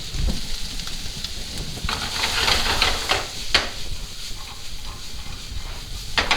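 White onion with a bit of salt frying in vegetable oil in a pan gives a soft, continuous sizzle, with a few brief scraping stirs, close and moderately loud with no talk.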